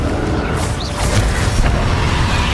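Confringo fire-blast spell in the Hogwarts Legacy game on PS4, a dense continuous wash of booming impact noise and crackle with a few brighter swooshes, loud and sustained amid battle sounds.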